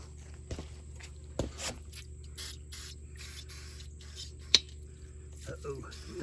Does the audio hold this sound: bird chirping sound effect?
no